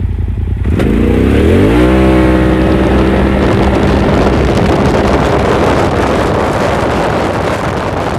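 A 2021 Polaris RZR XP Turbo with a new clutch kit, Trinity exhaust and stock tires accelerating hard through a 0 to 60 run, its engine note climbing and then holding a loud, steady roar under heavy wind buffeting on the microphone.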